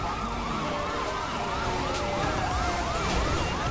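Wailing police car siren from the video game GTA V, a continuous rising and falling yelp that repeats steadily over a constant background of engine and road noise from an off-road vehicle, loud throughout and with no talking.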